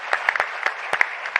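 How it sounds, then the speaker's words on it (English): Close, fairly loud audience applause for a conference panel at a science forum closing plenary, a dense patter of hand claps with a few sharper individual claps standing out. "can I ask you once again to give them a round of applause for a wonderful panel here?"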